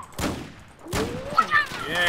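Battlefield 4 gunfire crackles in quick bursts, sharp cracks at the start and again near the middle, followed by ringing tonal game effects and scattered shots.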